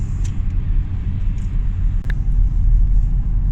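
An Audi A6 drives along a road while its diesel particulate filter is cleaned on the move, heard from inside as a continuous low rumble of engine and road that holds steady throughout, with no voices.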